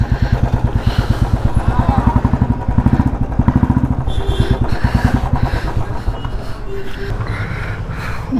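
A Yamaha R15 motorcycle engine runs on a test drive, a close, loud, rapid thumping putter that steadies and then eases slightly toward the end.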